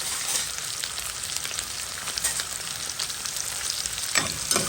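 Onions sizzle steadily in a pan in a continuous frying crackle, with a couple of brief sharper bursts near the end.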